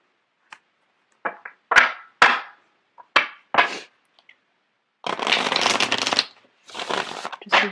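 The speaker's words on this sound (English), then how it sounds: "I'm going to get the cards shuffled out." A deck of cards riffled and tapped: several quick crisp snaps, then two longer whirring riffle shuffles, close up with no talking.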